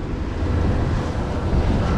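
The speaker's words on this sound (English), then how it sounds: "It's so windy." Strong outdoor wind buffets a camera microphone on a Miami street, producing a constant loud, low rumble with gusty fluctuations throughout and nothing else audible.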